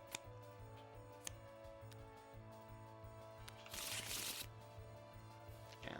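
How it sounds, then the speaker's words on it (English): A few playing cards from the Marvel Legendary deck-building board game are shuffled back into a deck, a short papery riffle burst standing out against quiet tabletop clicks and taps. "Each other player reveals their hand and shuffles 2 cards with recruit icons from their hand back into their deck."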